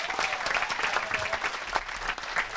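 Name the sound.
audience applause for the musicians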